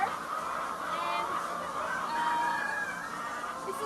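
A dense chorus of about a thousand chickens fills a poultry building on a Taiwanese farm, with honking, clucking calls overlapping in a continuous, moderately loud din and no speech.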